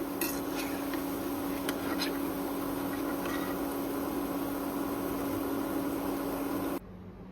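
Semolina dahi vada fritters deep-frying in hot oil, a steady close hiss and sizzle running nearly the whole time with a few faint utensil clicks, then cutting off abruptly near the end.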